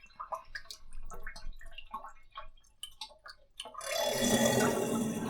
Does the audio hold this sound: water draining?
yes